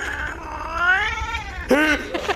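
A cat whines and meows loudly up close, a long drawn-out wavering cry followed by a shorter rising meow.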